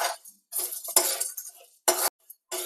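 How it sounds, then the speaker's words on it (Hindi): Small crushed harad (haritaki) pieces dry-roasted in a pan and stirred, giving bursts of scraping and clinking from the spoon against the metal, separated by short pauses. "तब तक हम इस हर्रे को भी हल्का सा इसको भी रोस्ट कर लेते हैं, इसको भी हल्का सा भून लेते हैं"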